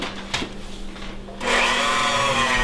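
Keks Torta batter being mixed by machine: quiet rustling gives way to a loud, steady whirring hum that fills the last second, close and continuous with no talk over it.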